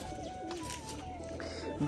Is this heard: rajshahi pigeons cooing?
yes